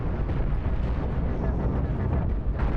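Cannon rounds firing and exploding in the space combat game Cosmoteer, a dense continuous rumble of booms and blasts, loud and unbroken throughout.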